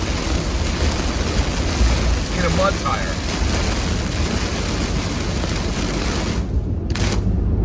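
Heavy rain and road spray roar steadily around a 2022 Toyota Tundra on 33-inch Yokohama Geolandar mud tires driving on wet tarmac, loud and continuous with someone talking briefly over it.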